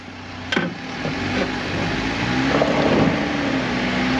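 An off-road vehicle creeps forward onto traction boards, its engine droning steadily with a low hum and a brief sharp knock near the start, wind noise throughout.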